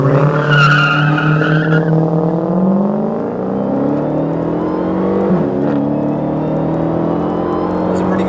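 A 2016 Dodge Challenger Hellcat launches hard, its tires skidding and squealing as the supercharged engine roars and climbs through the revs, loud and close throughout with a steady, sustained drone.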